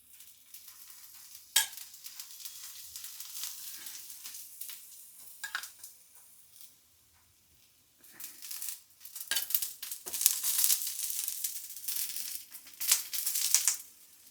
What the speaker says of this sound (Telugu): నెయ్యి వేస్తున్నాను.